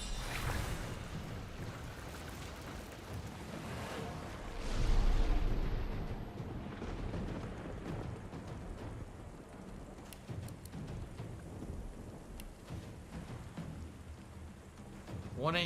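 Rain spell cast in a turn-based fantasy video game: a steady wash of rain-like hiss with low rumbling, a swell near the start like a thunder roll, continuing under the game's ambient sound.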